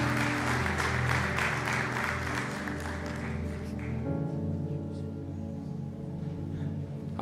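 A church congregation at a Sunday service claps together, loud and sustained for several seconds, then fades into a lingering hum of sustained organ or keyboard tones.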